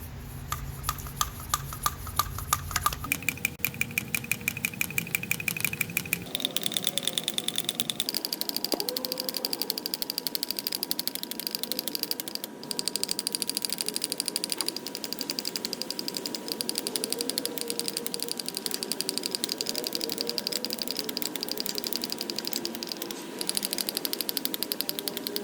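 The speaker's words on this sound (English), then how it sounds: "I'll try filling it with this little air pump here." A small hand air pump fills a dirt bike tire, starting with rapid rhythmic mechanical clicking strokes that give way to a steady hiss and whine of air as pumping continues close by.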